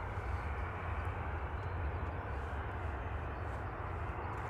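A passenger jet, Virgin flight VS77 bound for Bridgetown, taxis toward the runway at Manchester Airport, giving a steady broadband engine roar that stays constant and moderately distant throughout, with no one talking.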